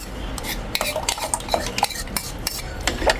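A utensil stirs mango ice candy mixture with fresh mango in a bowl, a busy run of scraping and clinking strokes against the container, close and fairly loud, with no talking.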